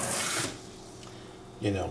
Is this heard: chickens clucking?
no